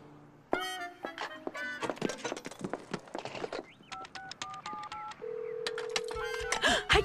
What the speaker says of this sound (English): I'm calling my grandma.